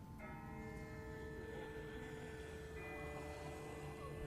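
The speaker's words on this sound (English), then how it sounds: "That's not the same bell as before. This one's further off." A distant bell tolls in The Walking Dead video game, its sustained ringing tones hanging steadily over a constant background hum, faint and far off with no talk.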